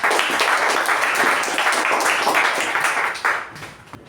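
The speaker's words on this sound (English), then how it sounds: "Please welcome distinguished Toastmaster Udanka with a huge round of applause." A room of Toastmasters club members gives a loud round of applause to welcome a speaker, a dense burst of clapping that holds steady and then fades out near the end.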